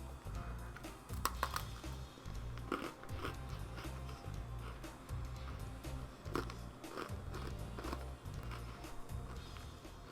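Crunchy biting and chewing of a Hydrox sandwich cookie eaten on its own, with repeated close crunches and mouth sounds over steady low background noise.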